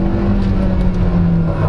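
The turbocharged engine of a 2024 Kia Seltos SX accelerates as a steady, loud low drone heard from inside the cabin, with road and wind noise underneath.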